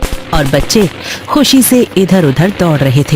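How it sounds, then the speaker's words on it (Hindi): Firecrackers burst sporadically during village Diwali celebrations, with a few sharp pops and crackles sounding under continuous narration. "पटाखों की आवाजें हर तरफ गूंज रही थीं"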